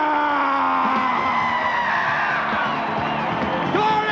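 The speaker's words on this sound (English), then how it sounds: "Comedian Jimmy Walker introduced her to a wildly enthusiastic crowd at the International Diamond Awards in Holland." A wildly enthusiastic crowd at the International Diamond Awards in Holland screams and cheers for a singer, a loud, dense roar of whoops and shouts that holds steady throughout with music-like tones underneath.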